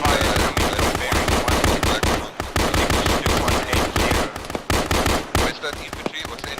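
Sustained close machine-gun fire in Arma 3 military simulation combat, loud rapid bursts with brief gaps, a voice faintly audible beneath the shooting.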